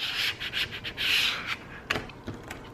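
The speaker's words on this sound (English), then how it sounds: "I'm just kind of smoothing out the washi." Washi tape being smoothed onto a paper planner page with a fingertip gives soft, close rubbing swipes in short strokes, followed by a couple of faint taps.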